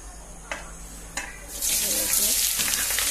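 Chilies hit hot oil and burst into a loud, steady sizzle that continues as frying, following a couple of sharp clinks of a utensil on the pan.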